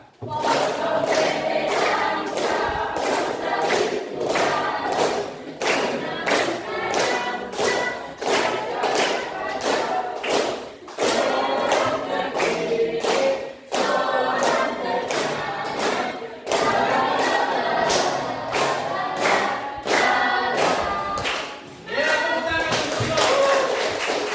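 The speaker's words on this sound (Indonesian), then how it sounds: "anak-anakku yang lain silakan tepuk tangan sambil bernyanyi" Children clap their hands in a steady, even rhythm while singing along, loud and close, with brief pauses between phrases and voices mixed into the clapping throughout.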